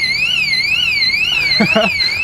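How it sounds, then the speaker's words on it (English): A high electronic alarm wails continuously in a rising and falling siren pattern, loud and steady, with a voice briefly speaking underneath near the end. "alarm is going off."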